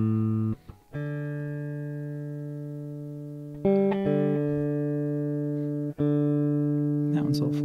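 Sustained electric guitar notes sound near and loud, one string held and retuned while a slightly flat pitch is corrected, with pauses between plucks and a brief strummed burst at the end.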